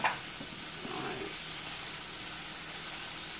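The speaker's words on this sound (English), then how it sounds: "Let me keep letting that saute." Chicken sautéing in a hot pan, a soft steady sizzle and hiss running throughout with a brief louder burst at the start, fairly close and with no speech.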